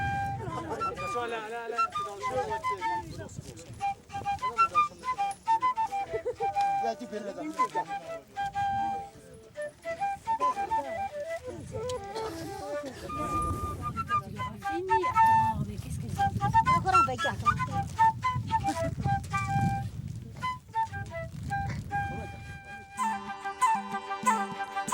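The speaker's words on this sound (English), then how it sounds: "So I decide to play the flute for them." A flute plays a slow, wandering melody for Tibetan nomads at 15,000 feet, mixed with a voice, soft background rumble and a few rustling sounds.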